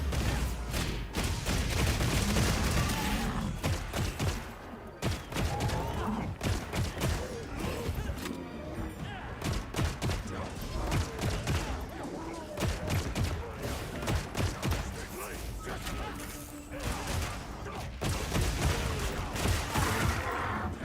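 A weapon fires repeatedly during a hunt in Monster Hunter Wilds: a steady stream of sharp, punchy shots and impacts, dense and fairly loud, with a player occasionally talking over them.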